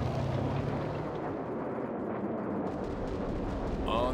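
Cannon fire in the WWA RTS strategy game comes as a continuous, loud, booming rumble of artillery that rolls on for several seconds without a break.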